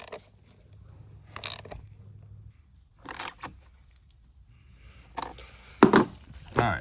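A ratchet clicks in short, separate bursts as someone tightens the battery terminals on a 2020 Jeep Gladiator, close by in an otherwise quiet space.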